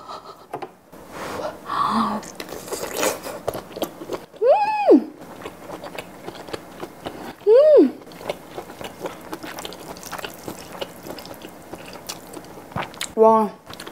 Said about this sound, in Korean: 우선 요 킬바사 소세지. 어, 뜨거. 그냥 우선 통으로 먹어보겠습니다.